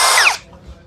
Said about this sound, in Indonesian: Mata bor kipas ukuran 16 mili ya, 16 mili, modenya mode drill ya